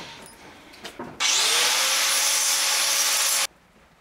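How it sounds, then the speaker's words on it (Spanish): An angle grinder cuts into the axle shaft of a FAE 325, its bright, loud metallic whine starting abruptly, holding steady for about two seconds and then stopping, after a few quieter knocks. "Le voy a pasar moladora al eje y voy a cortar toda la caja"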